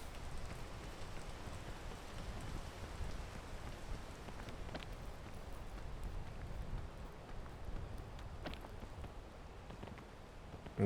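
Video game rain pours continuously, a constant broadband patter with occasional sharper drop ticks, alone with no voices.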